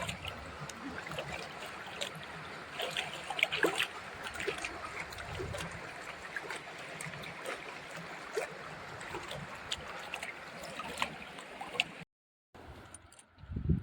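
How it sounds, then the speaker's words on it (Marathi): A river on the Narmada trail winds along with a continuous, fairly faint wash and trickle of moving water, heard alone with no speech, steady throughout before a brief dropout near the end. "अजून एक नदी अशी वळत वळत चालली"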